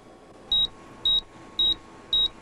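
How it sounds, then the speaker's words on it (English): A computer terminal emits four short, high electronic beeps at an even pace, each clear and fairly loud over a low steady hum. "my terminal beeped for the 100th time"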